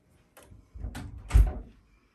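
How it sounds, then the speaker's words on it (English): A door in a home sewing room is pushed shut, a short handling rustle and creak followed by a soft, low thud as it closes, near and fairly quiet. "Let me shut the door."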